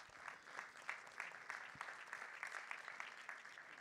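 Audience applause at a union congress session, a faint, distant hall of many hands clapping steadily, with individual sharper claps standing out in an uneven rhythm.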